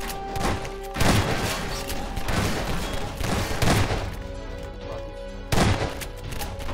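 A Gmod horror boss fight fills with loud, rapid gunfire, clustered bursts of sharp cracks and heavy impacts that keep coming across several seconds.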